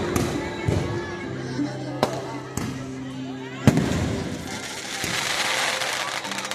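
Fireworks at the Arambagh Kumbh Mela burst in sharp separate bangs and thuds, some near and loud, with crackling and crowd noise rising later and a voice speaking over them.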